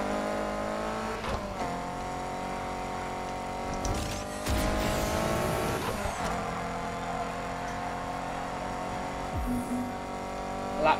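Race cars in Need for Speed Heat drone steadily with sustained engine tones, a surge of roaring acceleration midway and brief tire noise, loud and close with no talking.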